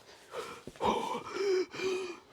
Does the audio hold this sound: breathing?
yes